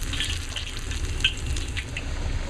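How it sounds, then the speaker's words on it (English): Sage leaves frying in hot oil, a soft continuous sizzle and crackle with a few small pops, fairly quiet and even, no talking. "We're going to fry some sage leaves."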